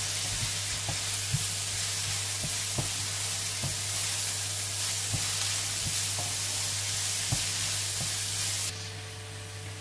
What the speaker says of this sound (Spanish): vamos pinchando nuestras verduras, vamos removiendo que no se nos queme.